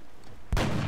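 A single sniper rifle shot from the strategy game XCOM: Enemy Within booms out sharply and loudly after a short quiet pause, with no talking.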